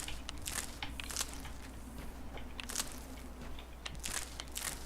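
Crunching as plants are picked in the Skyrim video game: sharp, crisp bursts repeating every second or so over a steady game background, with no talking.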